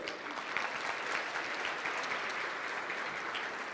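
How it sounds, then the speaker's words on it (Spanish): A room full of people at a pharmacy training seminar clapping together, a steady patter of applause heard at moderate distance for a few seconds. "Aplauso para ustedes."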